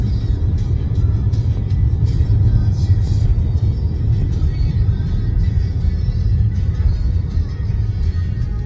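Several 2026 Toyota RAV4 SUVs pass on a test oval, giving a steady, loud low engine and road rumble that holds throughout, with no distinct pass-by peaks standing out.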